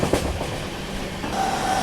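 An Indian Railways express train overtakes at high speed near Manmad Junction, rushing past with a dense rumble and rail clatter, steady and loud throughout, a faint high whine emerging near the end.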